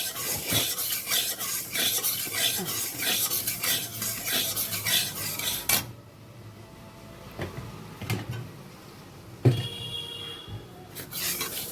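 Dry scraping and rattling as lentils are stirred in a metal wok, with a soft sizzle underneath and occasional sharper clinks.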